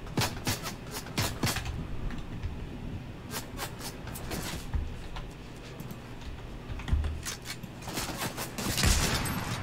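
Gunfire in a Fortnite match against bots: rapid bursts of sharp shots crackle in quick clusters, fairly faint and irregular, with gaps between volleys and more shots toward the end.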